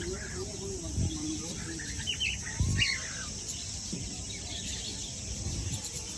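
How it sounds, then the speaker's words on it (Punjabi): Crested, parrot-like birds call faintly with short chirps in a wooded gurdwara ground near Ludhiana, under insect hum and a low voice talking. "ਉਹ ਤੋਤਿਆਂ ਦੀ ਪ੍ਰਜਾਤੀ ਜੋ ਲੱਗਦੇ ਆ ਪਰ ਤੋਤੇ ਨਹੀਂਗੇ"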